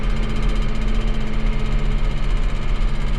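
A farm tractor's engine runs steadily at around 1700 to 2000 RPM driving the PTO while feeding cows, a loud, continuous low rumble with a throbbing knock and no pauses.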